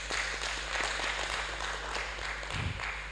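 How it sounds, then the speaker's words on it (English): Applause from a medical sciences conference audience comes through faint and steady under a constant low hum, with a brief low thump near the end. "a round of applause for that."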